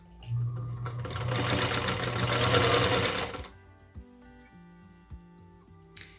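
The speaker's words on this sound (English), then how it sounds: "go back to the machine and stitch 1/4 inch again on each side of the block" A sewing machine runs steadily for about three seconds, stitching quarter-inch seams on a star quilt block, then stops, leaving a few light clicks and taps.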